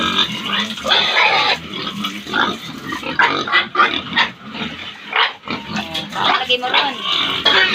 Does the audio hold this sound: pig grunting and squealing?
yes